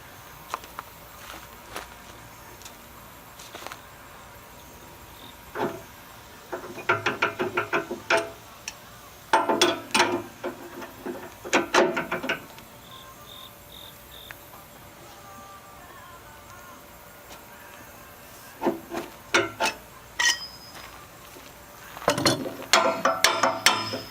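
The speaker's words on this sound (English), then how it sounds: "don't put a piece of pipe on a wrench" A ratcheting wrench with a length of pipe on the handle for leverage works a stuck bolt on a box blade, giving scattered bursts of clicking and metallic ratchet ticks separated by quiet pauses.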